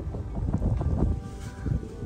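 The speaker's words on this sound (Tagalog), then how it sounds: "Grabe lakas ang hangin, no? Headwind nga ngayon mga kalapatids" Strong headwind blowing across a microphone outdoors, a loud close rumbling buffet that gusts and swells unevenly throughout.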